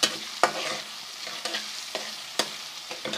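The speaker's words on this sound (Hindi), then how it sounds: "4-5 मिनट इसको करते हैं फ्राई" Garlic, ginger and chopped onion fry in a pan for a Kashmiri dum aloo masala, with sharp spoon scrapes every second or so over a steady close sizzle, no voices.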